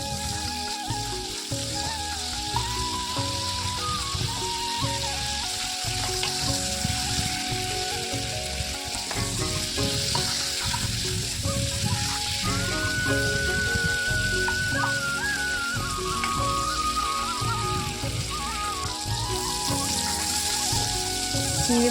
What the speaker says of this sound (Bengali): এরপর আমি চিংড়ি মাছগুলোকে ভালো করে ভেজে নিচ্ছি।